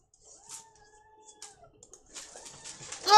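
Cats move about indoors, making faint, thin meow-like cries and soft rustles that grow into a louder burst at the end.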